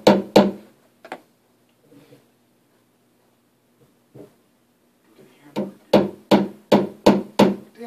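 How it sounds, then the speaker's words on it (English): Hammering somewhere around the home: a few sharp knocks at the start, sparse faint taps through a quiet middle, then a quick, steady run of loud blows toward the end, with no talking. "What the hell does he need a hammer for?"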